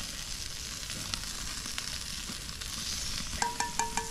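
Fish skin frying in butter over high flames after a creek catch, a steady close sizzle throughout, ending with a few sharp metallic clinks.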